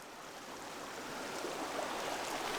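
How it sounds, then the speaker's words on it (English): Near a mountain valley campsite, a small babbling brook keeps up a continuous rushing, gurgling hiss that swells slightly louder toward the end. No one speaks. "Nice little babbling brook."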